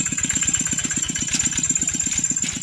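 A motorcycle with a modified exhaust idles with a loud, rough, rapid pulsing exhaust beat, steady and close, with a high whine above it.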